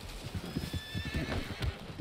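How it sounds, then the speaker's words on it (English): A horse in Red Dead Redemption II clip-clops along at a steady gait and lets out a clear whinny partway through, close and fairly loud. "That looks like the horse from Spirit!"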